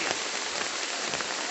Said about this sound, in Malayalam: മഴ നല്ല തകർത്ത് പെയ്തു.